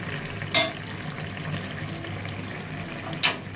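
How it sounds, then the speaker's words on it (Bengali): Hilsa fish fries with dry chilies, eggplant and potato, giving a faint, steady sizzle broken by two sharp clinks of a utensil. "শুকনা মরিচ দিয়ে ইলিশ মাছ আজকে ভাজলাম"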